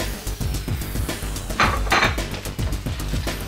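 Crab dip ingredients with onion powder, garlic powder, paprika, chopped scallions and Parmesan cheese being stirred together in a bowl, a steady run of close clinking and scraping strokes against the bowl with no talking.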